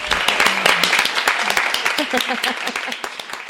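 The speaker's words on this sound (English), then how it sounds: "Should we have another round of applause for Devin for moderating so brilliantly?" Indoor audience at a bookstore author event claps for the moderator, a fairly loud round of applause that thins out toward the end, with a voice talking over part of it.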